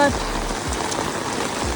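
Heavy rain pours steadily in Vang Vieng, Laos, a dense continuous hiss of drops on surfaces filling the whole short stretch at close range.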